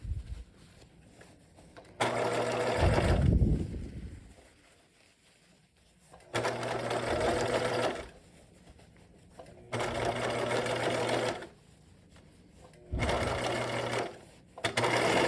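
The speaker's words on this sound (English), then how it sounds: "you are officially done machine stitching" A sewing machine topstitching around the opening of a backpack runs in four loud, steady whirring bursts of about one to three seconds each, separated by quiet pauses.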